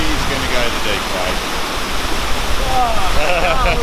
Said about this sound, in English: Here we go, Mr. Walker, traversing Western Creek waterfall.